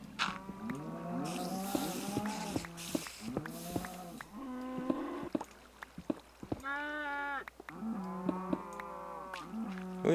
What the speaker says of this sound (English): let's check on the little baby cows